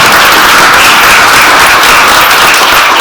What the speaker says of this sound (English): can everyone please join me in another round of applause for our fantastic panel?